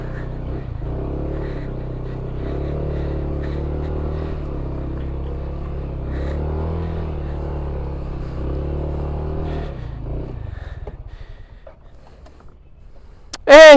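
A motorcycle engine labours with a steady, strained drone for about ten seconds, then fades and settles before a sudden loud burst of noise at the close.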